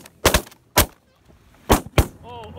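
Shotgun blasts at geese over a sod farm during a goose hunt, four loud close shots in two pairs, followed by goose honking.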